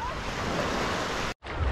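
Ocean surf washing onto a beach on Koh Samui, a steady broadband roar of breaking waves with wind noise on the microphone, continuous and fairly loud apart from a momentary dropout near the end.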